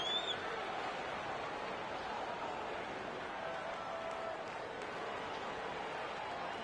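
A steady, distant crowd roar from an NBA 2K26 basketball video game fills the space, a dense murmur of cheering and chatter without distinct claps or peaks.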